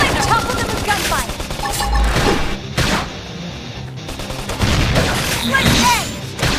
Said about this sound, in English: Let's topple them with gunfire.